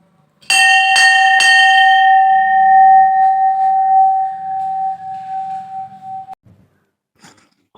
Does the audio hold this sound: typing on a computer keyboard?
no